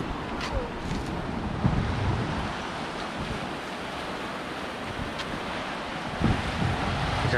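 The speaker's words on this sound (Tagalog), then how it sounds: "Dagat." Sea waves roll onto the shore at Dingalan, Aurora, a continuous low surf wash mixed with gusting wind noise on the microphone.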